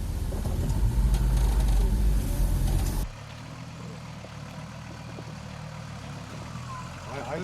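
A Mercedes Gelandewagen tackles an off-road obstacle in a 4x4 club challenge, its engine rumbling loudly at first and then dropping to a lower steady drone while people talk over it.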